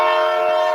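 A loud, steady train horn blasts from a passing train, a single sustained chord-like tone held close and unbroken with no talk over it.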